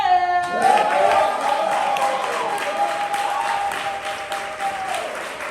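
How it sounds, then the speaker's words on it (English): Applause and cheering from a crowd at a poetry slam, sustained for several seconds, with a rising tonal whoop or sustained voice riding over the clapping throughout. "Keep that applause going for our final poet in this year's second round."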